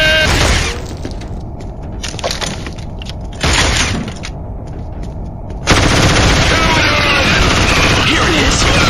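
Automatic gunfire from the Killzone shooter game comes in loud, sharp bursts, then breaks into a long sustained barrage near the end, with brief lulls in between.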